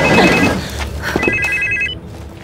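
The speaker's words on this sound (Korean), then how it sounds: "그때 전화가 울리고" A telephone rings loudly and close in a tense drama scene, with repeated electronic ringtone bursts over a low background rumble.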